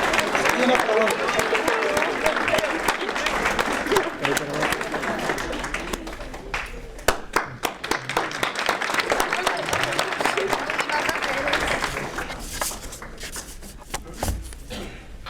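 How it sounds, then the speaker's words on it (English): Applause from an audience at a Rotary Club award event for Ellen Grant. Dense clapping fills the room at moderate volume, thins out in the middle and swells again before fading, with a voice talking over parts of it. "I'd like to ask for a round of applause for Ellen Grant."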